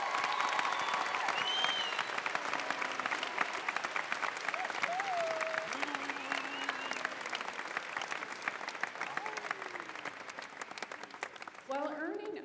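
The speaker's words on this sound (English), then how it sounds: "Let's give this important group of people a round of applause." At an undergraduate commencement ceremony, a large crowd gives a sustained round of applause, dense clapping filling the hall throughout with a few voices and cheers mixed in.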